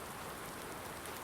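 Steady rain falls in Farming Simulator 19 over a snowy farm setting, a dense, even hiss that continues unbroken with no voices.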